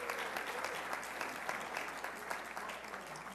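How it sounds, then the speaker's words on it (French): A crowd claps steadily and densely for about three seconds, the applause filling the space at an even level with no letup. "Et on les applaudit."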